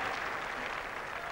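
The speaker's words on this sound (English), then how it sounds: "And big applause for the 50 partnership." Cricket crowd at an England Ashes Test match in 1981 applauding a 50 partnership, a brief, even wash of distant clapping with no voices over it.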